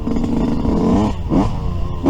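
Yamaha YZ125 dirt bike with a Pro Circuit pipe, its carburetor jetting on the rich side, revs hard and close, dips briefly, surges again, then blips back up at the end.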